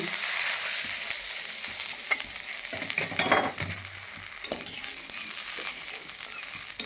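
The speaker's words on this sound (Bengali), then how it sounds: "দেখো এই সর্ষেটা ভাজা হয়ে গিয়েছে" Steady hissing sizzle of mustard paste frying in a hot pan, with a few spoon scrapes and stirring bursts in the middle, close and continuous.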